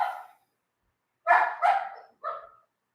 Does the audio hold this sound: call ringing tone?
no